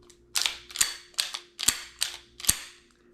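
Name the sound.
pistol slide and frame being worked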